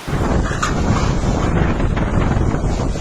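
Strong typhoon wind roars steadily against the microphone in Batanes, a dense continuous rush with no voices.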